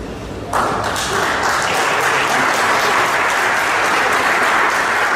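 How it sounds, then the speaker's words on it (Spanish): A church audience bursts into loud, dense applause after a brief quieter moment, the clapping sustained and even at close range for the rest of the clip. "Aplauso fuerte para estos valientes hermanos"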